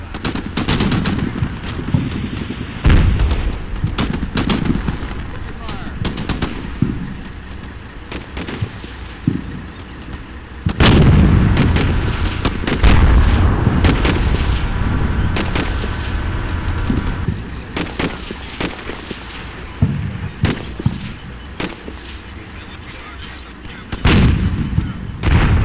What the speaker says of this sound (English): I also increase suppression fire, including some fire from the 105mm strikers